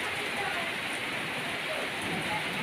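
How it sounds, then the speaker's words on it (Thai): Steady rain in July pours down without a break, a dense, even hiss of drops close by and loud throughout. "นี่ก็ฝนก็ตก อยู่บ่อยๆนะครับ"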